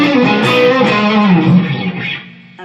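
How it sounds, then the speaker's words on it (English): A Fender SRV Stratocaster electric guitar played through its neck pickup rings out with sustained, slightly driven notes that decay toward the end, heard alone without talk. "So right there, that was the neck pickup."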